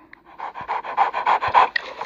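A dog in a horror video game pants in quick, steady, rhythmic breaths that grow louder and more even over about two seconds, close and alone with no talk.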